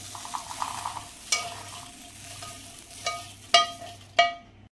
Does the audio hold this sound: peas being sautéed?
yes